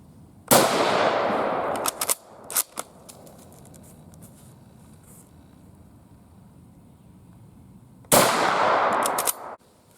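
Two loud, sharp rifle reports from a Japanese Type 38 Arisaka, spaced several seconds apart, each followed by a decaying echo, with metallic clicks and clacks of the bolt and handling in between.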